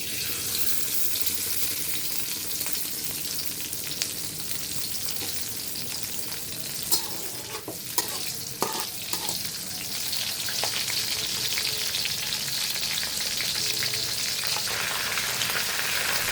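Garlic and dried red chilies fry in mustard oil in a pan, a loud steady hiss and crackle running the whole way with a few faint knocks partway through.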